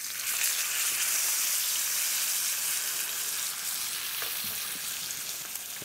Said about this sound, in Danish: så jeg vender den en gang til, så når den også får lidt mere skorp